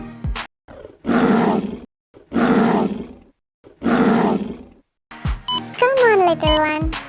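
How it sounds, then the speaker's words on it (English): Three loud, drawn-out lion roars repeat with short pauses between them, then a voice and playful game sounds follow at the end. "Lion sounds roar, roar."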